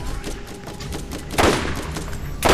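Revolver gunfire in the Borderlands video game, two loud separate shots about a second apart, each a hard bright crack over steady game background noise.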